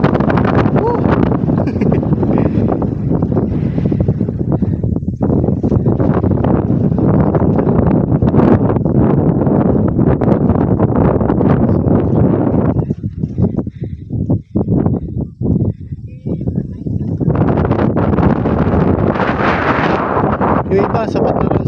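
Strong wind buffeting the microphone on open rolling hills in Ramon, Isabela, a constant roaring rush that briefly drops away before returning, with a voice heard through it.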